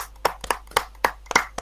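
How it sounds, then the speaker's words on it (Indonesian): A few scattered hand claps from a small group of teachers at a training workshop, about seven sharp, irregular claps over under two seconds, fairly close and dry, with no voices. "Kita tepuk tangan untuk kelompok 3,"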